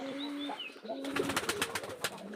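Pigeons in a farm loft coo softly in low, drawn-out tones, followed by a run of rapid rustling pulses close by, all at a quiet level.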